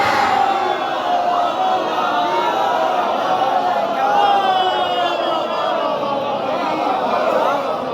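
A large crowd at a religious majlis chants a slogan together, a loud, continuous wash of many voices that holds steady throughout with swelling shouts.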